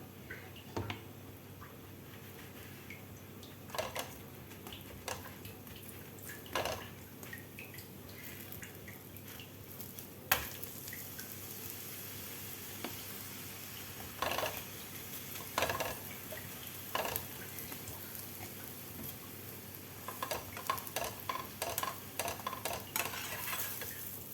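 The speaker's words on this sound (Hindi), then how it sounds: "अब हम अपने दूसरे पराठे में भी घी लगाएंगे।" A khichdi paratha fries in ghee on a griddle: a soft, steady sizzle runs for over twenty seconds, dotted with scattered ticks, drips and spatula scrapes, fairly quiet and without talk.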